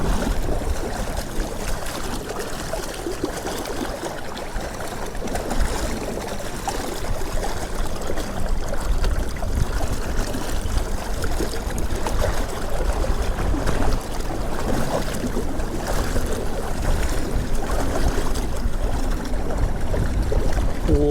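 Strong wind buffets a small boat on a lake, with steady broadband roar and choppy water slapping the hull as the motor pushes at near top speed against whitecaps; continuous and loud, no talk.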